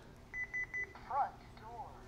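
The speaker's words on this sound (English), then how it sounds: "the panel gives you the beep beep chime along with the audible spoken words of front" A Honeywell Lyric alarm panel sounds its door-sensor chime as three quick, evenly spaced beeps, followed by a synthesized voice announcing the zone, all fairly quiet and close in a room.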